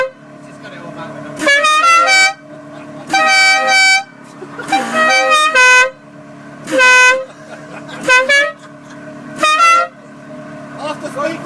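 Air horns fitted to a Ferrari blare the Dixie tune as a prank, in loud, sharply cut musical phrases repeated about seven times, with voices chattering in the gaps.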